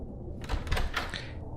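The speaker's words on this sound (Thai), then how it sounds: "ก็มีคนเปิดประตูเข้ามา" A door opens as a sound effect in a Thai horror story podcast: a short, rough knocking and creaking clatter of a little over a second, moderately quiet, with no talking.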